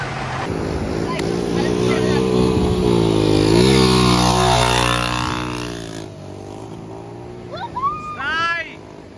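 A motorcycle passes close by, its engine rising loudly to a peak then fading away over several seconds, followed by a voice and a dog's excited yelps.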